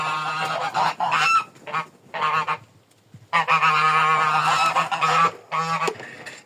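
Geese honk loudly and close by in repeated harsh bursts, several calls overlapping with short pauses between, no speech.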